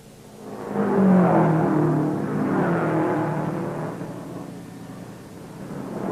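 Several 1950 Indianapolis 500 race cars, among them Lou Moore's Blue Crown Specials, roar past in a group. A broad, sustained engine drone swells, then fades slowly as the cars pass, with no voices over it.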